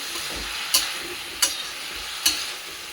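Ginger-cumin masala for a vegetarian radish curry is stir-fried in a pan with a little water: a steady sizzle runs under three sharp, evenly spaced spatula scrapes, close and alone with no talking.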